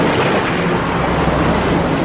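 Loud, steady roar of a heavy rainstorm with a deep, continuous rumble of thunder, wind buffeting throughout, as a car drives along a highway at night.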